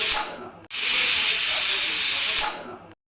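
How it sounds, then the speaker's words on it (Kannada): Pressure cooker cooking fenugreek-leaf rice bath, releasing steam in a loud hissing whistle that sputters briefly, cuts out, then blows strongly for nearly two seconds before stopping abruptly. "ಕುಕ್ಕರ್ ವಿಜಿಲ್ನ ಮುಚ್ಚಿ ಒಂದು ಎರಡು ವಿಜಿಲ್ನ ನಾನು ಹೊಡೆಸ್ಕೊತಾ ಇದ್ದೀನಿ"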